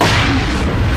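A spaceplane's rocket motor ignites after release from its carrier plane at the edge of the atmosphere, a loud, dense, sustained roar filling the whole second.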